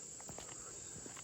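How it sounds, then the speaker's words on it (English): Crickets chirp in Michigan woods at dusk, a steady high continuous trill with faint soft rustles or patter underneath, no voices. "And you hear the crickets right now"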